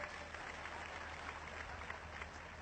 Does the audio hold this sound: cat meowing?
no